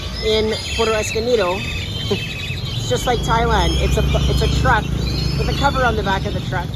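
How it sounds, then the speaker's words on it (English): Many birds chirp and whistle in Puerto Escondido, Mexico, with repeated bright calls close by and overlapping throughout. Someone talks over them, and traffic rumbles low underneath. "And I'm sure you can hear all the birds in the background."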